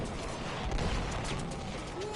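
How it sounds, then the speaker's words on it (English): Booming blasts from combat in the video game Battlefield 1 rumble continuously as a dense, roaring wall of battlefield noise, with no clear gaps between the explosions. "Oh, there are explosions abound."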